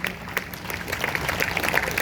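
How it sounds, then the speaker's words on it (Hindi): Scattered clapping from a church congregation during a Sunday service blends into a steady crowd murmur, moderately loud and continuous. "अगर आप तालियां बजाओ तो जोरदार बजाना"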